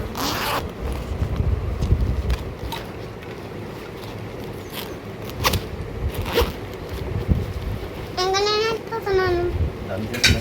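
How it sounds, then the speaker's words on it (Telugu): A zipper on a child's school bag is pulled shut in a few quick rasps amid a voice and background bustle. "పెద్ద జిప్లో పెట్టుకుంటున్నాను"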